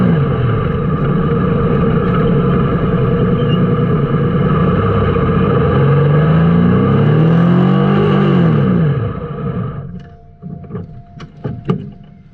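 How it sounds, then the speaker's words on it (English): Wingless sprint cars race at Timmis Speedway in Mildura during the Australian Wingless Sprint Title, their loud engine roar sweeping past in a rising and falling pass before fading into quieter crowd and track noise. "Monster drive as he rips away from the A1 of Jacob Jolly."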